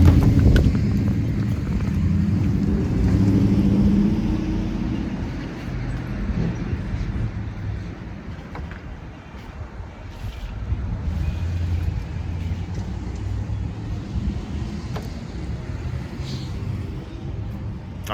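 Wind gusts buffet the microphone on a street outdoors, a continuous broadband rumble with rising and falling surges and no voices over it.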